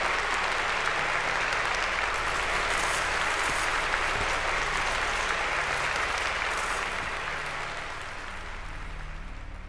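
Crowd applause in the video game Virginia, a thick, continuous patter of many clapping hands, loud and steady before easing off slightly toward the end.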